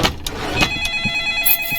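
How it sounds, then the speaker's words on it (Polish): Telephone ringing in the horror video game Apeirophobia, a steady electronic tone with bright high harmonics repeating over a murky ambient background, moderately loud and without speech. "Co to za telefon?"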